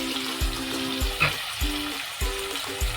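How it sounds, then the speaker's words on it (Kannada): Ginger garlic paste sizzles and fries with capsicum in a pan, steady crackling broken by repeated scraping stirs at a regular rhythm, close and clear without speech. "ಶುಂಠಿ ಬೆಳ್ಳುಳ್ಳಿ ಪೇಸ್ಟ್ ಹಾಕಿದ್ದೀನಿ."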